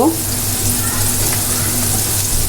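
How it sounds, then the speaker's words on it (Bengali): Onion frying in a pan for a pangas fish curry gives a dense, steady sizzle that stays loud and even throughout, with no talking. "পেঁয়াজটা আমি একটু ভেজে নিব"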